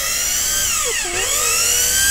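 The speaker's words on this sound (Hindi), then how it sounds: "देख रहे हो अभी मिक्सर का साउंड आपको सुनाई दे रहा होगा" A kitchen mixer grinder runs at a high, steady whine after its brushes were repaired, the pitch dipping briefly in the middle before climbing back, loud and close with no talk.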